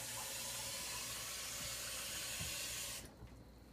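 Water runs steadily into a can with three holes in its side, a continuous hissing, splashing flow close by that cuts off near the end, leaving a quieter trickle.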